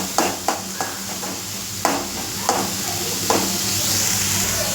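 Carrots and vegetables stir-fried in a pan for Maggi noodles, a spatula knocking and scraping in several sharp strokes over a steady sizzle, fairly close, with no talk.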